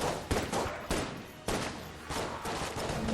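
Strider's revolver firing in the Enter the Gungeon video game: four or five sharp, distinct shots spaced roughly half a second apart, each with a short ringing tail, fairly quiet overall.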